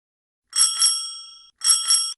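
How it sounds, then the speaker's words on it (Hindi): A bicycle bell rings out clearly in two separate bursts, each with a double ding, as a cyclist rides past quickly; the bright metallic tones ring on briefly after each strike, with no voices present. "घंटी की आवाज भी नहीं सुन रहे हो?"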